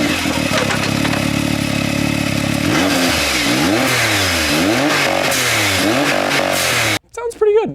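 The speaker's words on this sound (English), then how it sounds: "I got the Yoshimura like carbon Japanese exhaust on the bit." A side-by-side's small engine with a Yoshimura carbon exhaust revs up repeatedly in rising and falling bursts, loud and close, then cuts off abruptly as a voice speaks briefly.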